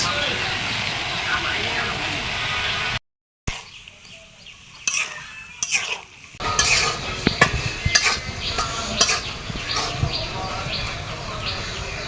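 Vegetables cooking in a pot with salt, green chili and onion are stirred, giving irregular metallic scrapes and clinks against a low hiss, with a brief dropout part way through.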